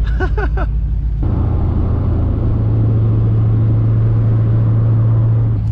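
RX-7 car with an LS engine swap cranks briefly, then catches and settles into a loud, steady, rumbling idle that dominates close up, with a short burst of voice at the start.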